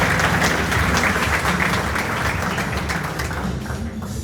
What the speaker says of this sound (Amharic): ለጌታ እልልታ ጭብጨባ።